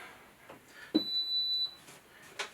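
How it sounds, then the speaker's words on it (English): A single high electronic beep from an HTVRONT auto heat press rings out for under a second, clear against quiet room tone, with small handling noises before and after. "I can hear it actually beep."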